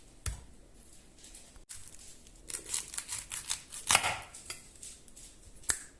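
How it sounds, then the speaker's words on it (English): A knife chops onions on a board in a Portuguese homestead kitchen, giving close, irregular crisp cuts and scrapes with brief pauses, no talking. "That's the onions chopped."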